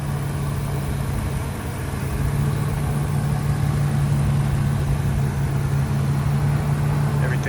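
A steady, low idle of a 6.8-liter Ford Triton V10 in a 2006 Ford E-450 box truck drones on evenly throughout, a constant mechanical hum with a faint rattle, close by and unchanging.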